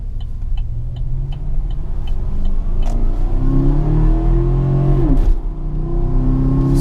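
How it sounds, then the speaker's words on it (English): A V8 truck fitted with a performance exhaust revs, its deep rumble rising and falling loudly and close up, with no talking. "it'll give it a nice smooth V8 sound"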